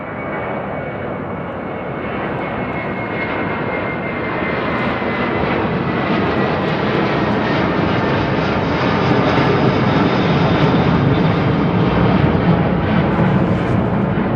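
A Delta Airbus A330-300 jet airliner departs overhead from London Heathrow, its broad engine roar loud and steady throughout, swelling slightly as it passes with no voices.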